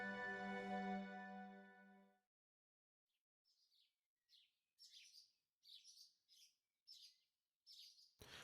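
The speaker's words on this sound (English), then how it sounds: "You can hear the small birds chirping outside." Small birds chirp outdoors in quick, high bursts, heard alone and fairly faint after a sustained tone that fades out, in a scene from the visual novel Tsukihime Remake.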